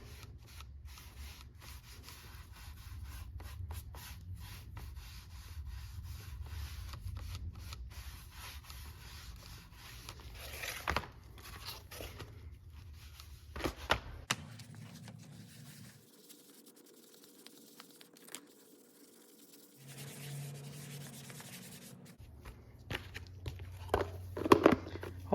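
Oil is rubbed by hand onto the inside flap of a leather journal cover, giving soft, quiet, intermittent rubbing close by with brief pauses and no talking.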